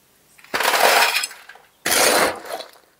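Fresh pumice stones for repotting an orchid being turned and stirred by hand, two bursts of loud gritty crunching and rattling, each about a second long, close up with quiet between.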